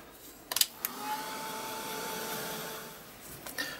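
Hair dryer blowing over freshly brushed Reeves light green paint, a steady breathy whir that holds for about two seconds after a few short taps and clicks, then fades out.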